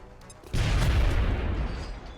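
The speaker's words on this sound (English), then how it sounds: "Big explosion." Large in-game explosion in XCOM: Enemy Within with the Long War mod, likely a car blowing up: a sudden loud boom that rolls into a sustained rumble lasting well over a second.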